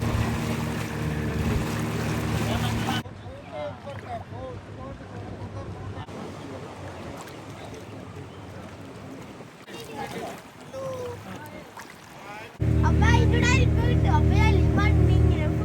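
A boat cruises on the water in Goa, steady engine and wind rumble with water wash, loud stretches at the start and end and quieter passages between, with voices talking over it.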